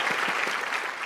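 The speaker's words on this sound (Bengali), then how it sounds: "ঐশীর জন্য একটা জোরে করতালি হয়ে যায়।" Loud audience applause for a contestant at a televised family reality-show grand finale, steady dense clapping filling the whole moment with no voices over it.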